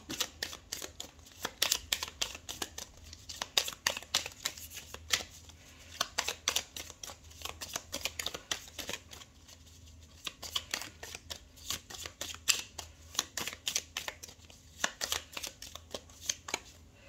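Gypsy Witch fortune telling playing cards being shuffled, a steady run of crisp riffling flicks and soft slaps repeating throughout, close and fairly quiet with no talking.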